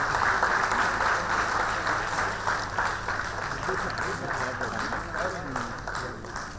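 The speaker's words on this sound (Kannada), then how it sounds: "ಜೋರಾಗಿ ಚಪ್ಪಾಳೆ." Audience applause at a public event honoring corona warriors, sustained clapping from a crowd heard alongside loud speech over a PA and general crowd noise.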